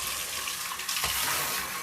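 Water from a Hoover Smartwash Pet carpet cleaner splashes and runs into a sink in a steady, bright hissing rush, close and continuous, with a brief surge partway through.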